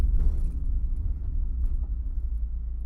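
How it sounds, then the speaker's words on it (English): A modified Mazda MX5 NA Miata engine runs steadily close by, a continuous low rumbling drone with a slight rasp and no talking over it. "And sound is nice, like 80s rally car."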